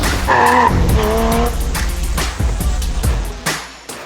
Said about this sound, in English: The mid-engine sports car is by far a perfect car for the track.